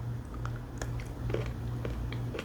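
Crunchy bites and chewing of an IKEA advent calendar chocolate with a hard caramel brittle filling, a close series of sharp, irregular cracks and crunches over a low background hum.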